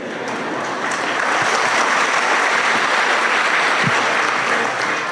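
Sustained applause from an audience at a spiritual discourse, dense, steady clapping holding at a constant level for several seconds with no talking.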